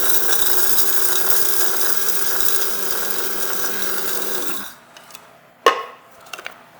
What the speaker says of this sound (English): grind fresh coffee with black pepper